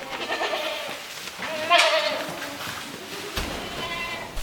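Homestead goats bleat several times, with one loud, wavering bleat in the middle and others overlapping, over rustling outdoor noise and faint talk.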